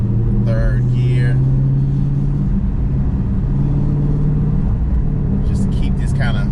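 A Dodge Charger/Challenger 392 Hellcat held in third gear in manual mode gives a steady, close engine drone and road rumble throughout, with brief bursts of higher mechanical noise near the start and end.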